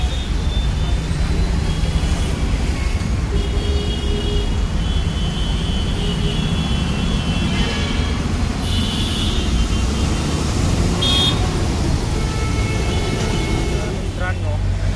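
Steady road traffic on a city street near NIBM in Pune, with a constant low rumble of passing cars and vehicles, occasional louder passes and distant horns, continuous and moderately loud throughout.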